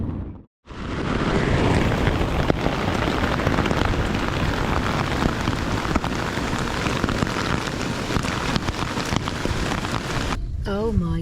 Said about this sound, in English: And my goodness, didn't it rain that night?